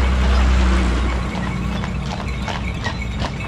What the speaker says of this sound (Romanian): Mergem cu cai, frumos.